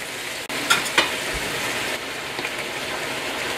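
Chicken and vegetables cook in gochujang sauce in a stir-fry pan, giving a steady close sizzle and crackle with a couple of sharp utensil clicks near the start.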